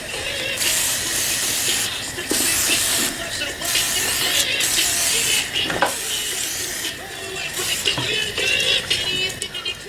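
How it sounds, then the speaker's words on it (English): Repeated bursts of aerosol spray hissing close by, several long sprays separated by short pauses, aimed into a Chevrolet Corvair engine. "Just spray and spray."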